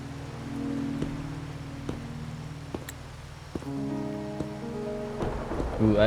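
Rain falls at midnight in the video game Wuthering Waves, a steady soft patter with occasional drips under a low humming game score.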